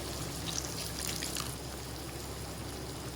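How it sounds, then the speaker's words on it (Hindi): Water is poured into a pan of spiced potatoes frying for aloo anda bhujia, a soft splashing trickle that lasts about a second and a half before settling into a low, steady cooking hiss. "1 कप पानी का ऐड करेंगे"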